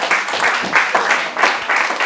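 Congregation clapping for Jesus at a live prayer, prophecy and praise night, loud rhythmic bursts of group claps in pulsing waves, close and full.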